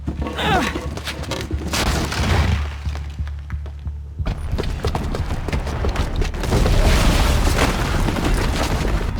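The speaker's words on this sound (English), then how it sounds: "the booby trap on the bomb downstairs is gonna get set off" A bomb booby trap detonates in Horizon Zero Dawn, producing loud, deep rumbling booms and a sustained roar with crashing debris. A brief lull follows before the blast noise surges back to full strength.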